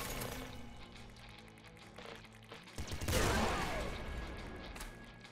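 Rapid game gunfire from the super yo-yo gun in Nuclear Throne crackles in a dense, continuous burst over background game sounds and swells louder midway.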